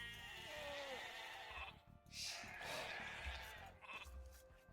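Sheep bleat in the strategy game Age of Empires II, several short wavering bleats over busy game sounds, fairly quiet in the mix.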